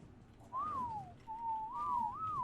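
Repeated whistle calls ring out in the video game Ark as a player summons a flyer downward: one gliding whistle, then a longer wavering run of whistles, clear over a soft background.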